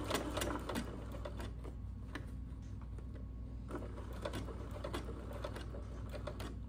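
Sewing machine stitching an invisible zipper, a quiet rapid mechanical chatter running continuously throughout with faint clicks on top.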